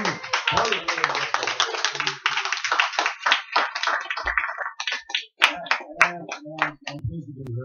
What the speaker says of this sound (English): Please give a round of applause for our next person on the open mic.